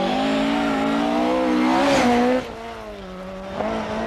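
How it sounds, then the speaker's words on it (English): A Ford Escort rally car at the 1992 Townparks Rally drones loudly on the stage, its engine note climbing and wavering, then easing to a lower, quieter pitch before a brief blip. "Ian Johnson's escort is equally entertaining."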